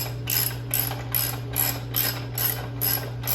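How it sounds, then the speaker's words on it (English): A 19 mm ratchet loosens the front axle bolt on a 2014 Yamaha Bolt 950cc motorcycle, sounding as seven evenly spaced bursts of close, crisp pawl clicking over a low steady hum, no speech. "we're going to take the 19 millimeter and we're going to loosen the big bolt"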